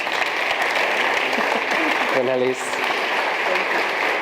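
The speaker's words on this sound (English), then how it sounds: "So big applause for the other startups." Sustained applause from a crowd at a gastronomy tourism forum fills the whole stretch, with a voice briefly speaking over the clapping partway through.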